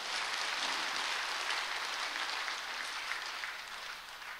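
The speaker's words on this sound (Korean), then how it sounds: "기왕 박수 치려면 다 치세요" A church audience claps together in a dense, continuous round of applause that holds steady and eases off a little at the end, with no voices over it.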